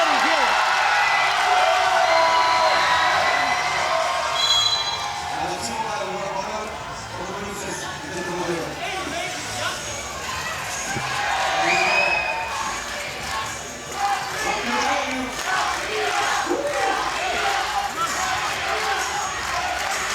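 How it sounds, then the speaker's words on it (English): Latvian fans chant in an arena during a FIBA 3x3 basketball game against Serbia, a rhythmic crowd roar with cheering, ball bounces and a commentator talking over it throughout. "You're hearing the Latvia chants in the crowd."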